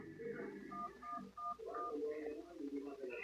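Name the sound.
telephone dialing in a horror video game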